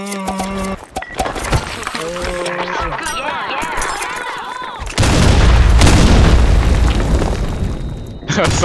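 A flashbang grenade bursts loudly in the Blackshot shooter game, a sudden broadband blast that rings on for several seconds, with a player talking earlier in the round.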